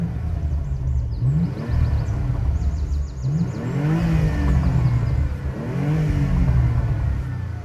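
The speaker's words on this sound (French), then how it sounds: "Et le régime moteur monte un tout petit peu." A Porsche Macan S engine in sport mode hums under a steady cabin rumble, its revs climbing slightly and falling back in a few gentle swells, fairly close and with no talk.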